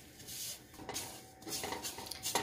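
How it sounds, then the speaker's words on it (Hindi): Semolina is dry-roasted and stirred in a pan, a faint scraping and clinking of a spoon against metal coming in short, irregular bursts. "अब इसमें सूजी डाल दें और इसको भुनें"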